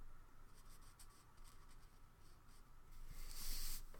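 Jane Davenport alcohol markers stroking across paper in quiet, repeated soft scratchy passes, with a brief louder rubbing burst near the end.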